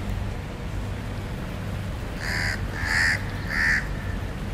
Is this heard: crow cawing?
yes